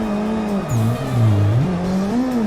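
A car drifts through a tight section in a racing video game using the e-brake, its engine drone steady and loud with the pitch dipping and rising as it slides.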